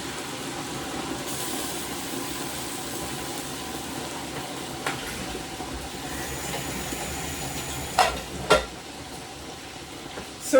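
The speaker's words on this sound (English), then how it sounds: "I'm frying some chips for my children." Chips frying in a pan for children, a steady close hiss and crackle of hot oil running throughout with a couple of brief louder clatters near the end.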